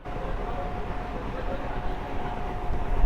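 A train running on the Ranaghat line: a steady, loud rumble of wheels and carriages rolling past nearby, continuous throughout and swelling slightly at the end.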